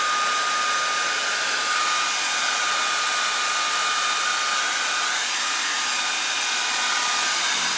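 A hair dryer blows steadily on wet book pages, a loud continuous whirring hiss with a faint motor whine, close and unbroken throughout.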